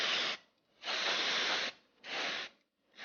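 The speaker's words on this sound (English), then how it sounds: "So I'm going to spray it all over and clean all the contacts." Electronic contact cleaner sprayed onto a corroded connector on a Hummer fuel pump control module, three close hissing bursts separated by short silences, the middle burst the longest.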